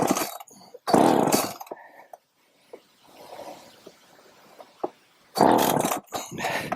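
A vintage Poulan 3400 chainsaw, just given a carburetor adjustment, roars in loud bursts near the start and again near the end, with a quieter, sputtering stretch between.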